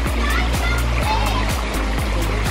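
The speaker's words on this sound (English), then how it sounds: "then we get a view of the stream" A stream flowing through a park, a loud, close, continuous rush and gurgle of water with a rhythmic low pulsing, alone without voices.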